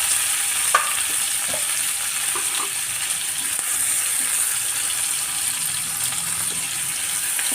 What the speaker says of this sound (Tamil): வெங்காயம், தக்காளி, பச்சை மிளகாய், எல்லாம் போட்டு வதக்கிடுவோம்.